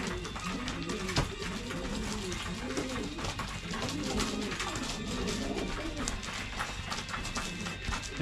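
Racing pigeons coo and call near a loft amid fluttering and shuffling, steady and close, with someone talking over them throughout.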